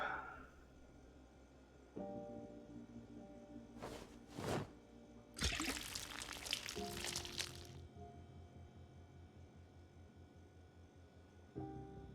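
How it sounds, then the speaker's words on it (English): Water pours from a saucepan onto the ground in Project Zomboid, a broad splashing rush lasting a couple of seconds amid other game effects, with a couple of short whooshes just before it. "It's just pour it on the ground."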